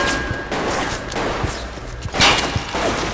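Gunfire in the game Bioshock, several sharp shots scattered through a busy, noisy mix with a louder burst near the end, no talking over it.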